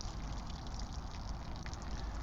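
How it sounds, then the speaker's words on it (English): Water draining from the spout of a camp cooking pot beside a campfire: a faint, steady trickling gush running continuously, with no voices over it. "Empty a little bit of water out of there."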